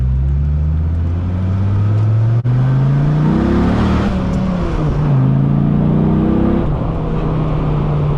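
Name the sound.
sports car accelerating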